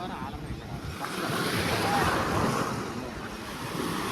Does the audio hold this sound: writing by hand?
no